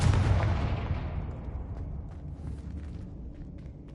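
A Confringo fire spell goes off in a Harry Potter video game as one heavy blast, loud at the start, then fading into a long rumbling decay with faint crackles.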